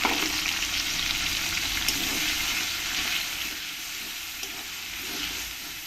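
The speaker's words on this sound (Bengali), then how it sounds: "পেঁয়াজটাকে একটু ভালো করে লাল লাল করে ভেজে নিতে হবে" Sliced onions fry in hot oil with bay leaf and dried chillies for chicken bhuna, a steady, loud, close sizzle that continues without pause and without talk.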